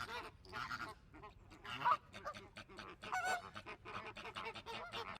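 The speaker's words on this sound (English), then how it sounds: "Flamingo." Flamingo calls: a run of loud, harsh honking cries repeating in quick bursts over about five seconds, close and dense, with no talk.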